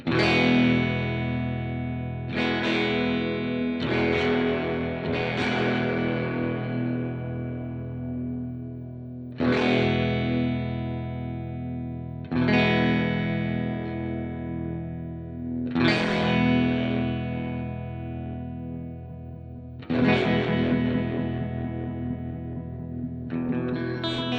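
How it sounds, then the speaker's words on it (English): An electric guitar plays sustained chords through an EHX Stereo Pulsar Nano tremolo at a slow rate. Each struck chord rings out and swells and fades gently, with new strums every few seconds, loud and close. "See how slow that rate."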